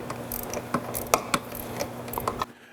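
A wrench clicks with sharp, uneven ratcheting strokes while a ground wire nut is tightened onto a battery's negative post during a Vision X Cannon LED light install. The clicks sit close over a low background hum.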